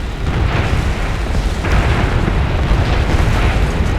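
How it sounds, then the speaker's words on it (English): 50-kilogram bombs exploding in War Thunder, a loud, sustained, rumbling blast roar with heavy low end that stays steady throughout, no distinct separate impacts. "let's see what these 50-kilogram bombs do to artillery"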